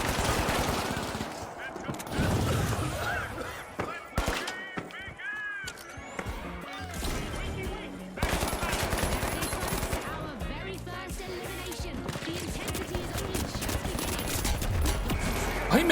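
Gunfire in a video game shooter: dense, rapid bursts and shots layered over busy in-game sound. The firing stays loud and almost continuous, with only brief lulls.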